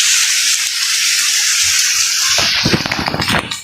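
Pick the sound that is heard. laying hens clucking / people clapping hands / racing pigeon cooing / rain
rain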